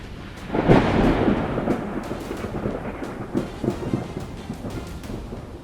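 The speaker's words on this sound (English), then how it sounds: "Can you hear the thunder shaking the air?" Thunder from a storm in Iowa rumbles loudly after a lightning strike hits a car, a deep rolling boom swelling near the start and then fading into steady rain-like noise with later softer rumbles.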